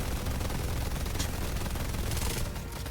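Turrets firing in the video game Deadlock, a dense continuous rattle of rapid shots over a steady noisy rumble, moderately loud and unbroken throughout.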